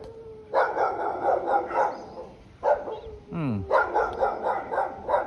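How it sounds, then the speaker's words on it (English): Hunting dogs bark in repeated rough bursts at moderate distance, with steady noisy background and a brief whining sweep between the barking spells. "Dogs plural, they look like hunting dogs."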